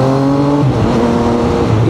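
A 2025 Triumph Tiger 800 motorcycle engine accelerating, a loud close roar with pitch steps as it shifts and climbs, brief and strong.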